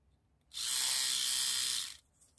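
An Oral-B electric toothbrush motor buzzes alone for about a second and a half in a bright, steady, high-pitched whine, switching on and off sharply.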